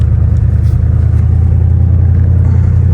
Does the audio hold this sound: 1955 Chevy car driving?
yes